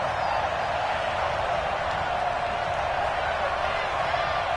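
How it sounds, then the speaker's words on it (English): A stadium crowd in Madden 20 roars steadily for the home defense, a dense, continuous wall of cheering that holds without a break from start to finish. "And this crowd urging on their defense."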